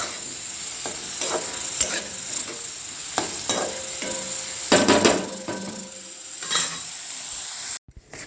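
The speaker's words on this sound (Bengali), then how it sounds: "আমি ওই রান্না করতেছে, আমি নাড়াচাড়া দিয়ে দেই" A spoon scrapes and stirs chutney cooking in a pan, with intermittent knocks against the metal over a steady low sizzle, close and moderately loud with no talking.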